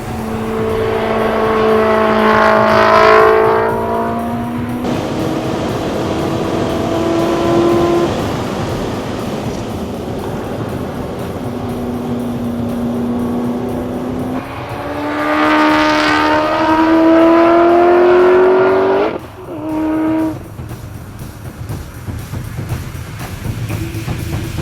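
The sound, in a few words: modified car lapping a race track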